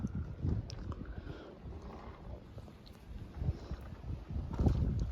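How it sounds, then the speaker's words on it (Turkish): Strong gusty storm wind buffets the microphone in uneven bursts, swelling loudest toward the end. "Onun için bugünden beri burada o kadar rüzgar var ki."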